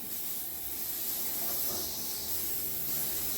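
A continuous close hiss of an aerosol can of cooking spray coating a cake pan, steady and unbroken for a few seconds.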